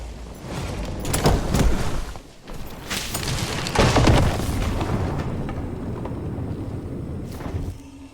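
Spell explosions in the fantasy dungeon game Dark and Darker, heavy booming blasts with rumbling tails, two strong bursts early and mid-clip over a continuous noisy game backdrop.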